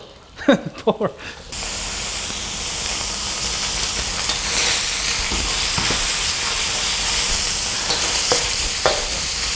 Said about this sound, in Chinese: 现在我们开始炒牛肉末